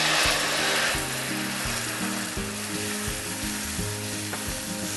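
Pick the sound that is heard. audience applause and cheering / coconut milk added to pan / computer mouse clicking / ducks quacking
coconut milk added to pan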